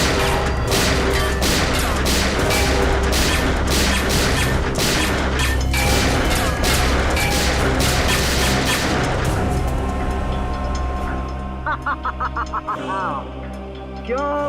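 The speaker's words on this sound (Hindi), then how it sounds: "क्यों फिजूल में कानून की गोलियां बर्बाद कर रहे हो" Loud, dense bursts of gunfire hammer away almost without pause in a Hindi TV crime drama shootout, with crashing impacts layered on top. The firing fades toward the end, leaving a few lighter mechanical clicks.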